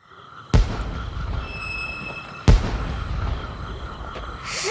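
Two loud booming firework blasts go off about two seconds apart, each trailing into a crackling rumble, with a faint hiss rising at the end.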